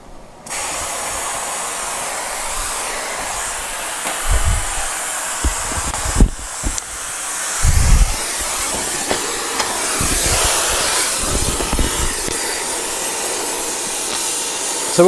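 A torch roars with a steady, loud hiss as it heats the pitman arm assembly of a BMW 2002 during a K24 engine swap, broken by occasional clanks and knocks in a garage.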